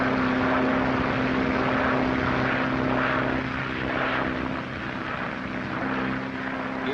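A propeller airplane from a 1937 film, on a transatlantic flight from London, its engines droning loudly and steadily throughout with no other sounds.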